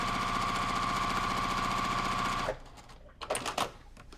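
Sewing machine stitching along a marked line while piecing a quilt block, a fast, steady, close mechanical whir lasting a couple of seconds before it stops, followed by a few soft handling clicks.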